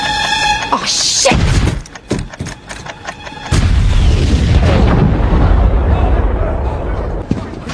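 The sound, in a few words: bomb exploding on the Hudson barge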